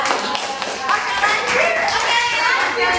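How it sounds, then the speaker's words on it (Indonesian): A group of students in a high school class claps for a fellow student group, a dense patter of many hands going on steadily throughout with young voices chattering underneath. "Tepuk tangan untuk kelompok 4."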